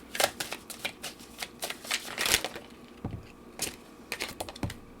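Tarot cards are shuffled up close in a series of crisp, rapid riffling and snapping bursts with short pauses between them, and no one speaks.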